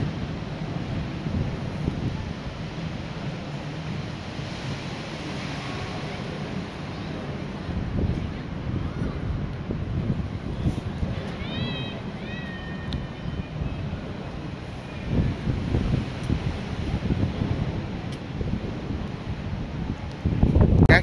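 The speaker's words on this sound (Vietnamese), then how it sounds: "gió thổi mạnh quá, lạnh rồi" Strong, cold wind blows hard at Fort Point, the coastal fortress in California, roaring as a continuous low rumble with rising gusts into the microphone.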